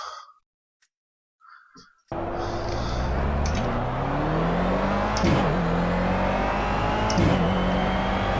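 A Clio Cup race car engine in the Project CARS racing game bursts in after a short near-silent pause. It revs hard and climbs in pitch through repeated upshifts, loud and close, with no speech.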